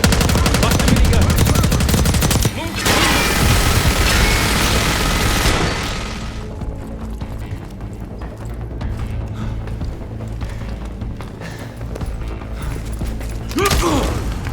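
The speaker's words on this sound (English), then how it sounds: "Watch the minigun." A minigun fires in a Call of Duty Black Ops 6 cutscene: loud, sustained rapid fire for several seconds, then it drops away into rumbling booms and mechanical creaks.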